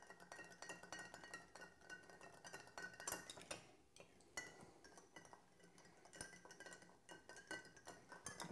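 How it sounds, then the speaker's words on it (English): Ice clinks and rattles against glass as a Flapjack Old Fashioned cocktail is stirred, a quiet, close, irregular series of bright clinks with soft swirling between them. "And I'm just going to stir it, chill it down, and combine the ingredients."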